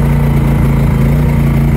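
A gasoline generator engine runs steadily at idle, close by and loud, with a constant low hum and even throbbing pulse throughout, and no voices over it.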